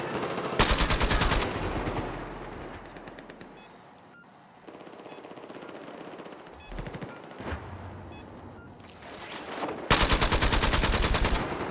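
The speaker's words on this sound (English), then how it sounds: "That gun shreds though." Rapid automatic gunfire from a gun in the video game Battlefield, with loud sustained bursts that stop, give way to quieter game sounds and a few short shots, then return for a final long burst.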